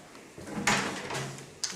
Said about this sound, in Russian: Вот тут еще две двери, мне интересно,